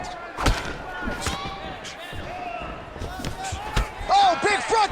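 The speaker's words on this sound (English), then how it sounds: "Oh, big front kick lands flush." A front kick lands in a UFC 5 video game fight: a few sharp thuds and impacts break through a busy background of crowd noise and speech.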